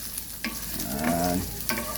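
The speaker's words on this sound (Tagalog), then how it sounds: "Mainit na yung pan mga idol. Lagay ko ng luya." Ginger hits hot oil in a pan, giving a steady sizzle with a couple of brief stirring clinks across two seconds of close frying.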